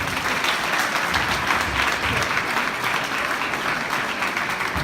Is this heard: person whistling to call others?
no